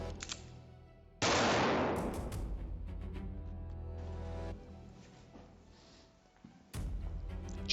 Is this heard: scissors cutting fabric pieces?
no